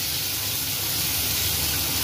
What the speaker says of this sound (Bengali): এবার পেস্ট করা মশলাটা ওই ফ্রাই প্যানে তুলে দেওয়া হচ্ছে আস্তে করে।